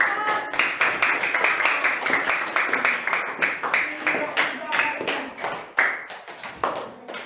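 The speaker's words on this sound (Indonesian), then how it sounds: "Berikan tepuk tangan untuk teman-teman." Schoolchildren in a classroom clap for their classmates, a fast, rhythmic train of sharp, close claps from a small group, with voices faintly audible underneath.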